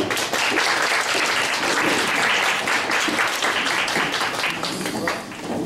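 A church congregation at a Korean worship service breaks into loud, close applause offered to God, a thick continuous burst of clapping that tapers slightly near the end, with a voice faintly present underneath.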